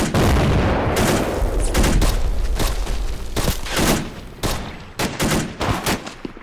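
Dense battle gunfire in a Korean War combat game, rapid overlapping bursts of automatic and rifle fire, loud and close, continuing in clustered volleys throughout with no talk.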